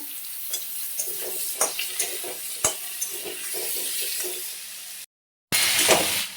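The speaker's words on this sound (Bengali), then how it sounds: "সবজি ভাজা হয়ে গেছিল" Vegetables fry in a pan tempered with dried red chilli and bay leaf, a constant sizzle punctuated by rhythmic spatula scrapes and taps, briefly cutting out before the loud frying resumes.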